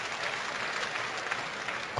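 Steady applause from a darts audience at a PDC UK Open quarter-final, a dense even patter of many hands clapping throughout with no voices over it.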